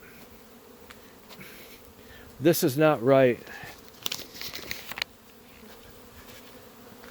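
Honey bees buzz around beehives in a small apiary, a steady faint hum running through the clip while someone speaks briefly in the middle.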